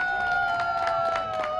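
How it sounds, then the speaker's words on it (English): Crowd applause and scattered cheering along the street at a St. Patrick's Day parade in Peekskill, steady and fairly loud, with a sustained whistle-like tone running through it and faint voices in the crowd. "Let's give them a big Peekskill welcome and a round of applause"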